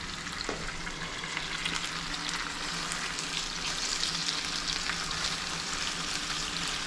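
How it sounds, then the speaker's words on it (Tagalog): Tocino, cured pork, frying in a pan, a steady dense sizzle with crackling pops that continues throughout, fairly loud and close with no talking. "Malapit ang maluto itong tusino mga boss."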